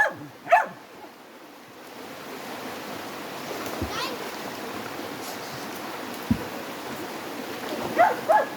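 A few dogs bark in short bursts, at the start and again near the end, over a steady wash of outdoor noise like water or surf.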